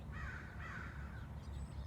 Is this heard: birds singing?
yes